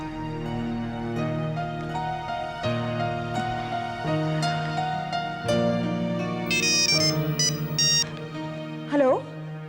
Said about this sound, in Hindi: फोन उठाओ राकेश, फोन उठाओ।